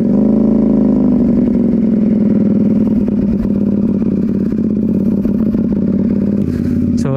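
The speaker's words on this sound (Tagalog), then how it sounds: "Start na natin yung motor, then let's go." A CFMOTO 450 SR motorcycle engine runs loud and close, holding a steady throbbing idle with a brief rev near the start and mechanical clatter underneath, no one talking.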